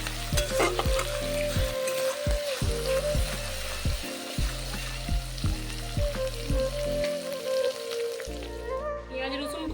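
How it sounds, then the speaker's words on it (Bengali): Garlic and onion paste sizzles in a pan for a chicken roast, with a spatula stirring and scraping in repeated strokes over a steady frying hiss. "পেঁয়াজ রসুনকে কিন্তু খুব ভালোভাবে ভেজে নিতে হবে"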